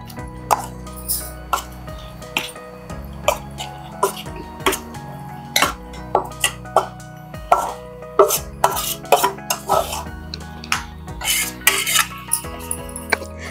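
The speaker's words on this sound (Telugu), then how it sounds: "ఇప్పుడు నేను ఈ మ్యారినేటెడ్ మష్రూమ్ ని కడాయిలో వేస్తున్నాను" Marinated mushrooms go into a kadai and are stirred, giving close, loud, irregular clinks and scrapes of a spoon against metal over a steady low background hum.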